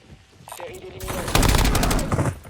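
Gunfire in the video game Warzone, a burst of rapid shots building partway through and running to the end, fairly loud and mixed with game sounds and a faint voice.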